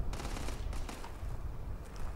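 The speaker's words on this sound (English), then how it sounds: "Who's shooting?" Gunfire in Starfield, a short string of rapid, fairly distant shots over a steady rumbling background.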